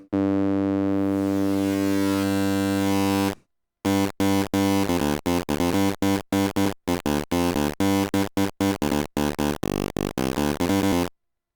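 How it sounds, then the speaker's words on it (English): A steady u-he Hive synth tone holds, then breaks into choppy, glitchy bursts of crushed, lo-fi digital notes through a bit-depth reducer that stutter on and off. "then we have crush, which is a bit depth reducer"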